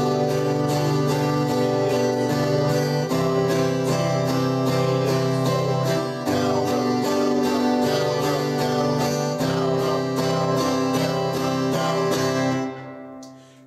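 An acoustic guitar strums a chord progression in steady down-up eighth notes, bright and close, with chord changes every couple of bars before ringing out and stopping.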